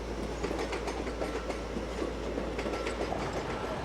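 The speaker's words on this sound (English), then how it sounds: "But local trains come and go, day and night." A local train on Britain's High Speed One line rumbles steadily past close by, with a continuous low roar and faint rhythmic clacking of wheels on rails.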